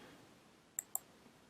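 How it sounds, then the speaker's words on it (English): Two quick, quiet mouse clicks about a fifth of a second apart, a right click on a computer mouse made while downloading setup files, alone against a faint background hiss. "I will simply right mouse click and download the Okta metadata"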